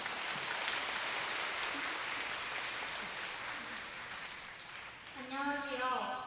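Steady applause from a church audience welcoming a youth speaker, a sustained wash of clapping that fades toward the end as a voice begins speaking.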